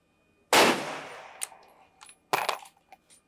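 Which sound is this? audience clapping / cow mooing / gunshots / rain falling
gunshots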